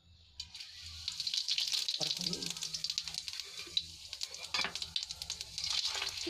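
One teaspoon of cumin seeds drops into half a bowl of hot oil and sizzles, a soft hissing crackle with scattered pops, faint and steady at close range.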